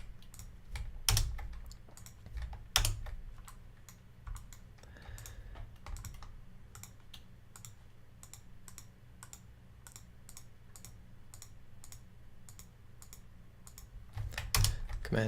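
Computer keyboard keys are pressed over and over for a shortcut while prepping a Unity project, a long run of quiet, evenly spaced clicks with a few louder taps near the start and end.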